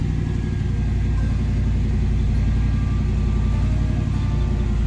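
Chevy Nova V8 fitted with Holley Sniper EFI idling with a steady, lumpy mid-pitched rumble, its revs easing down slightly; close, even and continuous with no voices over it.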